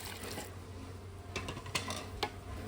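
Lotus-flower dessert dough being stirred with hot water in a pot: quiet scraping and a few sharp utensil knocks against the pot, with no talking.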